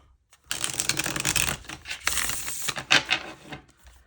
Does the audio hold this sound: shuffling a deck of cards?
yes